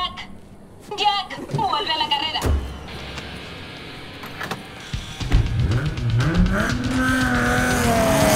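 Race cars in the Need for Speed The Run video game, including a Nissan 350Z, rev and roar with squealing tires and skids, rising and falling in loud bursts that build into a sustained engine drone.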